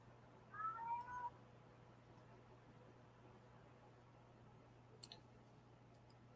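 A house cat meows a few times in quick succession, brief and fairly close, in an otherwise quiet indoor room with a low steady hum, followed later by a couple of faint clicks.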